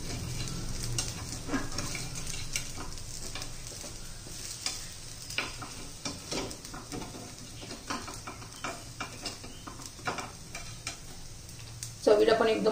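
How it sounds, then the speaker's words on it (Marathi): Moong dal appe are being flipped in an appe pan and sizzle softly, with scattered light scrapes and clicks as each one is turned, and a louder knock near the end. "आता मी सर्व असेच उलटून घेते।"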